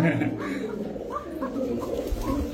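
A Koka pigeon coos repeatedly in low, rolling calls close by, mixed in with people talking.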